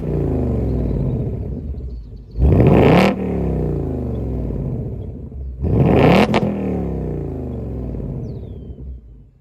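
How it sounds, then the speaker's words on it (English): A 2024 Ford Mustang GT with the 5.0 V8 idles on a warm start with a deep, burbling exhaust rumble. Two sharp throttle blips flare loudly and fall back to the steady idle. "But here is that exhaust."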